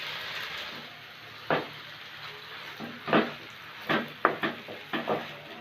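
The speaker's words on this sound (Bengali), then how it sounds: "এখন আমি দিয়ে দিলাম এই যে আমার সিদ্ধ করা নুডলসগুলো" Boiled noodles going into a pan for chow mein, a soft background hiss broken by several short clanks and scrapes of utensil on pan, close and fairly quiet.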